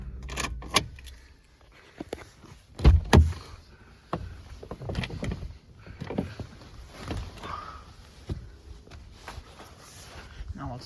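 An old Ford car being switched off with its keys, with jangling keys and clicks of the ignition, then a couple of knocks and rustles nearby, with a low voice now and then.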